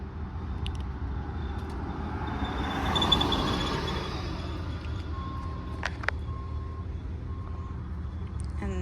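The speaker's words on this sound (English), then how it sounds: "there is like a truck, like delivery truck in the distance" A delivery truck rumbles in the distance as a low steady traffic drone, with faint intermittent reversing beeps and a few sharp clicks outdoors.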